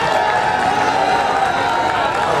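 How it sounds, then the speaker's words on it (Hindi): Festival audience applause and crowd noise, a steady dense wash of clapping and cheering heard at a distance, sustained without a break. "पब्लिक ने इतना शोर किया है आपके लिए। भरपूर तालियां।"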